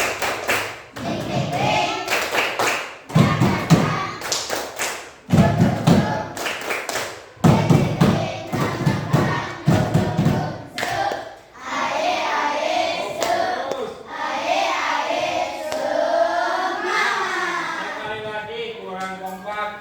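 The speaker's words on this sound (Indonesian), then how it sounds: "Coba tepuk semangat." Primary school class in an Indonesian science lesson performing a rhythmic spirit clap, bursts of group clapping and thumps in a patterned beat, with children's voices chanting along and louder shouting toward the end.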